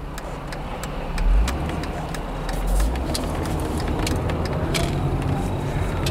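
1994 Mercedes-Benz E320 convertible on a short test drive on new tires, its engine and road noise a steady moderate drone with a couple of low surges, heard from inside the car with scattered clicks.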